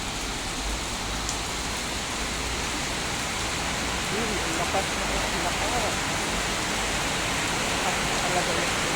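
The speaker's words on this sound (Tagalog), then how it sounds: "Grabe po yung ulan." Heavy downpour drumming on surfaces, a thick continuous roar, with faint voices murmuring underneath.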